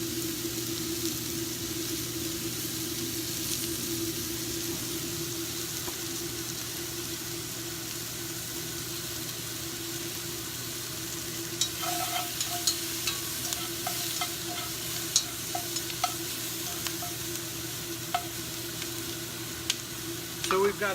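Onions sauté in a pot for beef stew, a continuous steady sizzle beneath a low background hum, with sporadic spoon taps and scrapes coming in during the second half; nobody speaks.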